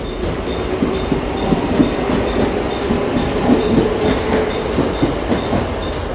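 A Mumbai local commuter train runs on its tracks, a steady loud rumble with rhythmic clickety-clack of wheels over rail joints and a faint high squeal throughout.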